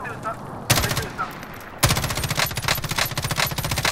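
Assault rifle fire in a video game: a brief burst, then a pause, then sustained rapid automatic gunfire, loud and close, with a rhythmic rattle of shots.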